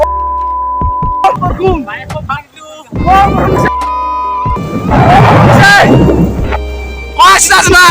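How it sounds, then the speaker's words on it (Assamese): Rain and rolling thunder outdoors in Assam: a heavy rumbling wash swells midway and stays loud, broken by bursts of nearby talk from several voices. "বৰষুণ দিছে"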